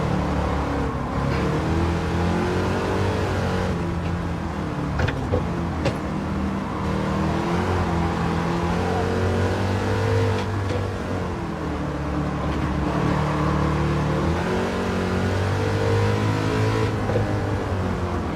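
Race car engines roar steadily in Gran Turismo 7, a Lamborghini among them, forming a continuous close drone with shifting pitch as the cars accelerate, with no talking.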